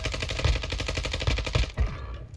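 Rapid automatic gunfire in Warzone 2 Resurgence, rounds striking the player in a fast, loud, evenly spaced burst lasting about two seconds before cutting off.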